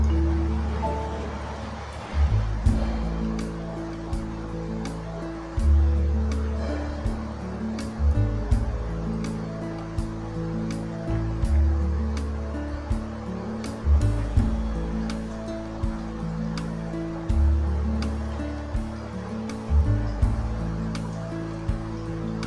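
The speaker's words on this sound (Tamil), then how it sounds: "இப்போ இட்லி பானையில் தண்ணி நல்லா கொதிச்சிட்ருக்கு." Water boils steadily in an idli steamer pot used for steaming ragi kolukattai, a continuous low bubbling rumble with regular surges and light popping clicks, close and alone.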